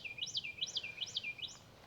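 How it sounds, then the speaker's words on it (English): Birds chirp outdoors during an axe-splitting session on red oak firewood, with four quick, evenly repeated high sweeping chirps, moderately faint and clear over quiet background, with no voices. "Birds are chirping."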